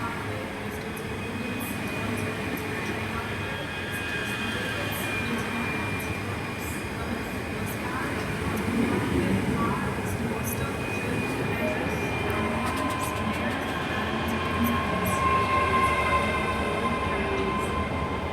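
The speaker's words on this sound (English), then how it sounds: "coming in, this is the 10:14 something. 10:50 to Edinburgh Waverley from Dunblane" ScotRail class 385 electric multiple unit pulling into a platform at Haymarket station in Edinburgh, a steady rumbling roar of wheels and motors that swells as it draws nearer, with a faint voice in the background.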